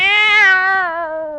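A single drawn-out cat meow, loud and close, falling slowly in pitch, heard alone in a 1949 radio comedy broadcast.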